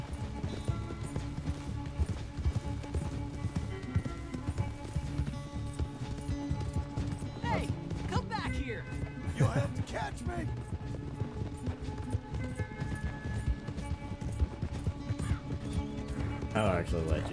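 Horse hooves gallop at a steady, rapid clip in the Red Dead Redemption 2 video game, loud and continuous throughout, with game music and people talking over it.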